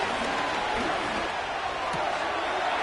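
A Seahawks home stadium crowd roars steadily through a Giants at Seahawks NFL game as a third down approaches, with a broad, continuous wash of cheering at moderate distance.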